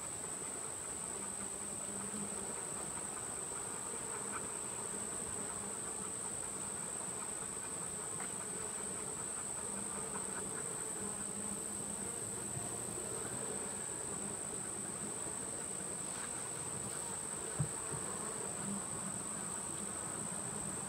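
Honey bees droning steadily around an open hive on a farm colony with capped brood and eggs, a continuous soft buzz held at an even level, with a steady high insect whine above it and no talking.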